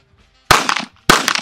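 Kel-Tec PMR30 pistol firing two sharp, loud shots about half a second apart, each followed by a brief ringing echo.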